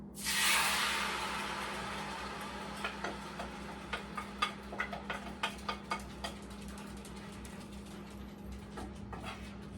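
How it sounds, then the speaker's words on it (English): Pepper steak ingredients hit a hot pan with a loud initial hiss that fades into steady sizzling, followed by a run of sharp ticking clicks over a low hum. "All right, our pan is hot. We're just gonna dump all this right into our pan."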